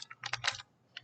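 Several quick keystroke clicks on a computer keyboard, clustered in a short burst and then one isolated tap, close and fairly quiet with no talking.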